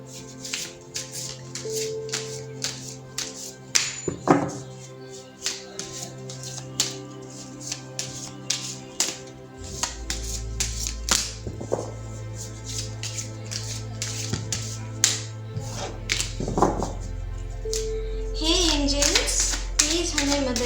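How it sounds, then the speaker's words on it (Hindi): A deck of tarot cards is shuffled by hand close by, giving a long run of quick slapping and riffling taps, with a brief voice toward the end. "तो पहले ज़रा मैं कार्ड्स को शफल कर लेती हूँ।"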